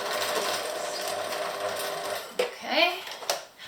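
A sewing machine stitching piping hums steadily up close for a couple of seconds, then stops, followed by brief clicks and a short voice.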